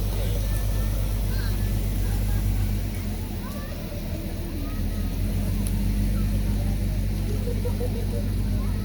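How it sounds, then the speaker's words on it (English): A fire department vehicle rolls past during a small-town midsummer carnival parade, its steady low engine rumble continuous and fairly close, with crowd chatter underneath throughout. "There's the Fire Association vehicle rolling through."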